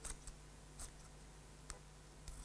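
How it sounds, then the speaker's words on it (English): Freshly sharpened scissors snip a few times in a quiet workshop, giving four short, crisp clicks spaced irregularly and heard up close. "the scissors cut right up to the very tip"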